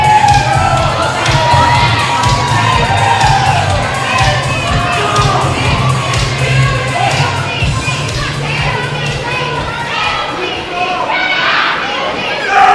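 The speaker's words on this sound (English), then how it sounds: "Very offensive chant coming from the crowd here" A crowd at an independent wrestling show in Port Richey chants loudly and steadily, a dense roar of many voices in rhythmic waves, with shouts rising above it.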